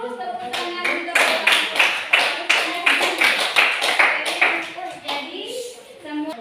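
A class in a classroom claps hands in a regular rhythmic pattern, sharp close claps repeating about twice a second, with voices chanting along over the beat.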